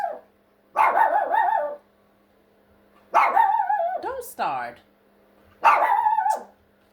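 A dog barks in three separate loud, close bursts with yelping, growly tones and short pauses between them, while a person speaks briefly.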